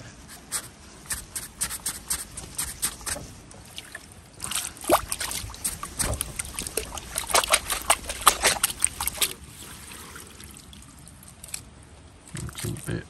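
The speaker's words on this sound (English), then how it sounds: "Okay, so into the water butt it goes." Lilac tree roots are washed in a garden water butt to rinse off soil, heard as irregular splashing, sloshing and dripping bursts that rise and fall in a close, uneven rhythm throughout.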